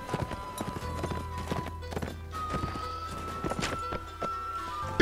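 Horse hooves clip-clop in the medieval combat game Mount & Blade: Warband, a quick run of close, rhythmic hoof strikes with a brief whinny and game sounds behind them.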